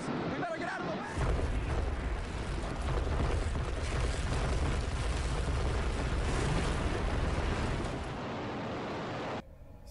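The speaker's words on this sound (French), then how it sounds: "A huge explosion now, raining debris on all of us." A huge explosion in a city, reported live by news crews, sends debris raining down, heard as a dense, sustained roar and rumble close by with crackling, clattering fall.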